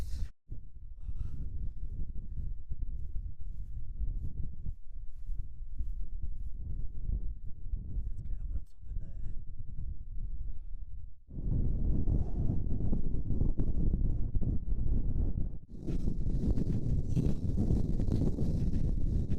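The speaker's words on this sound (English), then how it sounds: "Strong winds." Strong wind roars across an exposed Peak District hillside, buffeting the microphone with a loud continuous low rumble that surges harder partway through and briefly drops between gusts.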